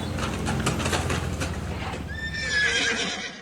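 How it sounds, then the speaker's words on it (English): Horses on a road in Lombok, Indonesia, their hooves clip-clopping steadily and close by, with a horse whinnying loudly near the end. "In general, there are a lot of horses on the road here."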